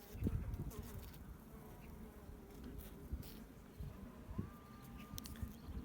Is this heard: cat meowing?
no